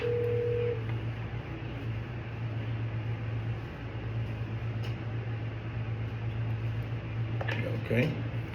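Store telephone dialed to call customers: a steady dial tone fades, followed by a long buzzing ring tone, with a few brief clicks near the end.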